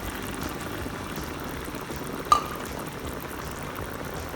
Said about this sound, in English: I would like to pour some more of the heavy cream at the top.